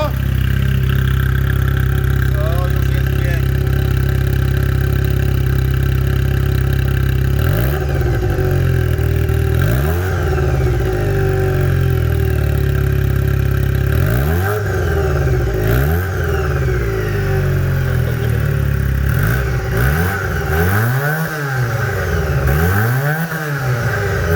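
A modified Junak M15 motorcycle engine idles steadily, then revs up in a series of throaty blips that grow more frequent and pronounced toward the end, loud and close.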